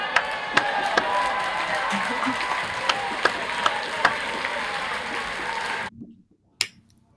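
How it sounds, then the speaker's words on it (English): Graduates at a virtual ceremony clapping over unmuted microphones, scattered sharp claps over a noisy hiss that cuts off abruptly near the end, followed by one last isolated clap. "Please now unmute your microphones and give yourselves a round of applause."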